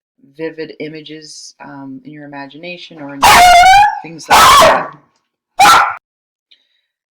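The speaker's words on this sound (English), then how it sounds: "So that was my dog." A pet dog barks loudly three times in close succession after a stretch of speech, followed by one more sharp bark, near and prominent.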